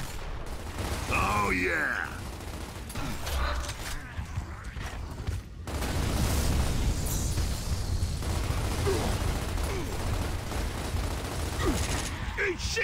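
Gunfire and bursting propane tanks in Gears of War: Ultimate Edition, heavy continuous combat noise with booming blasts and rattling shots throughout, with a shouted voice briefly near the start.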